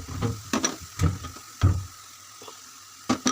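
Onion and garlic paste for chicken roast hitting hot oil in a pan, a soft sizzle broken by several close clinks and scrapes of a stirring spoon at an uneven rhythm.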